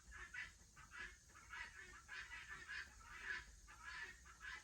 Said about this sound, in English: the guineas are right outside my pottery shop, so wait on them to pass